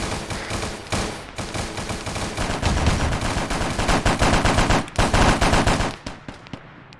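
Sustained heavy gunfire in a Warhammer 40k video game battle, dense rapid machine-gun bursts rattling continuously for several seconds, loud and close, with a brief pause before the firing resumes and trails off.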